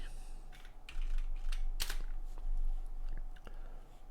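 Computer keyboard typing in a quiet room, a short run of soft key clicks ending in one louder keystroke, with no voice.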